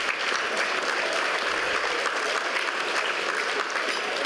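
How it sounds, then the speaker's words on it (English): Steady applause from an audience at a football league medal awards night, sustained and full throughout, with a faint voice briefly audible beneath it. "Round of applause for Jackie, ladies and gentlemen."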